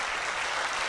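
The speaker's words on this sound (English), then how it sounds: "Thunderous applause fills the hall at the moment and Chidori finishes dancing." Thunderous applause fills a hall in the game Flowers as Chidori finishes a dance, a dense, steady roar of clapping that holds loud and unbroken throughout.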